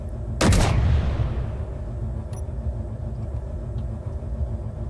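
A single powerful gun blast fires in Space Engineers, a sharp loud crack followed by a long rumbling decay under a low continuous hum, with a faint click afterward.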